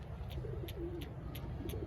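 A pigeon, a breeder bird of the Sualkoti or Teddy type, giving low soft coos close by under a steady background hum, with sharp regular ticks repeating through it and no speech.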